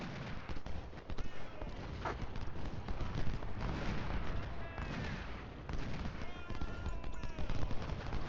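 Musket fire from Civil War infantry lines at the Battle of Bull Run in Ultimate General: Civil War, a dense, continuous crackle of overlapping shots rolling in uneven volleys at mid distance.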